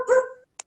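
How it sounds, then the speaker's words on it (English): A dog gives one short, loud, close bark that fades off, followed by a brief faint click, in an outdoor setting near a cemetery. "Oh, quiet now. The mad dog's here."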